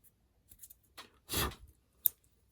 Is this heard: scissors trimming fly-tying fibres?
yes